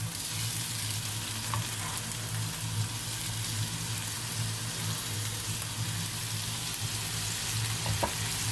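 Bacon frying in a pan for pasta with peas, an even, close crackling sizzle that holds steady throughout, with a couple of faint utensil taps and no one speaking.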